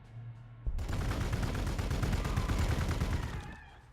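Warhammer 40k Gladius video game gunfire starts abruptly as a dense, rapid burst of shots that lasts about three seconds at steady loudness, then fades out.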